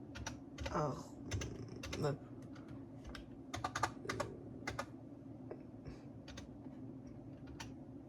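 Rapid clicking keystrokes on a computer keyboard, typed into a Minecraft search box, come in quick irregular bursts with short pauses, while someone speaks French between and over them.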